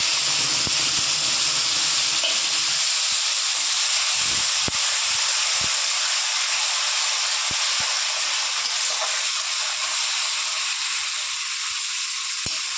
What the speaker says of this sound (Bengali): ওই তেলেই আমি মশলা দিয়ে কষিয়ে নেব।